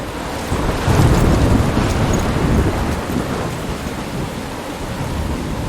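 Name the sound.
thunderstorm in Life is Strange video game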